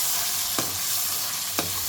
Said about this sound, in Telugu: ఇప్పుడు ఇందులో నూరుకున్న గోంగూర పచ్చడి అయితే వేసి ఒకసారి కలుపుకోవాలి బాగా పచ్చడి